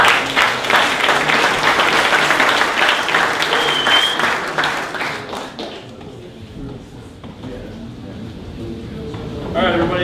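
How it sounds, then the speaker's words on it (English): An audience claps at a presentation event, a loud burst of applause that fades after several seconds into quieter scattered noise and talking. "please give him a round of applause"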